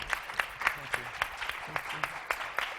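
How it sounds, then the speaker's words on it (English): At a civil rights gathering with Rev. Al Sharpton and mothers of the movement, the audience claps in a faint, distant, rhythmic pattern of evenly spaced sharp claps. "So give them another round of applause."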